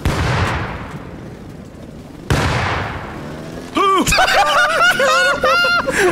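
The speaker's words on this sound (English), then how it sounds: "Oh, I threw a grenade over there." Two heavy booms from a grenade blast in the survival video game Rust, each a sharp crack fading into a long rumble, followed by excited laughing and talking from players.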